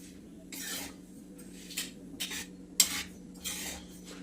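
Sesame seeds roast in a pan on a gas stove while a spoon stirs and scrapes through them in short bursts of rustling, close and fairly quiet, over a soft background hum.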